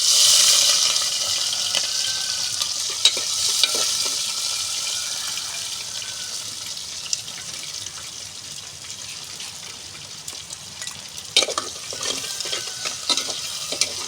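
Onion, green chillies and curry leaves frying in oil in a pan for pond fish curry, a steady soft sizzle with occasional stirring clatter, loudest at the start and easing slightly later.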